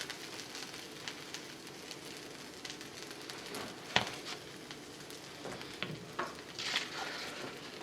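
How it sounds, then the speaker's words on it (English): An omelet frying in a pan, a steady close crackling sizzle with occasional sharper pops and light clinks, heard without talk. "Sizzling that pretty good, see a little bit of browns."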